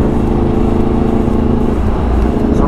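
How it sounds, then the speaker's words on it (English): A 2016 Yamaha R1 motorcycle, strapped down on a dyno, pulls hard through second gear with a loud, continuous engine roar that stays close and dominant the whole time. "we're doing second gear hits and the bike is fully strapped down right now"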